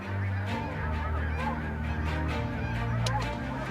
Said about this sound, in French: Dans les yeux de nos chasseurs se dessinent de grandes volées d'oies blanches serpentant le ciel.